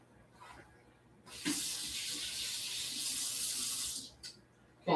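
A kitchen faucet runs for a few seconds as hands are washed, its steady hissing splash starting and stopping abruptly, close and fairly loud, with faint clatter around it.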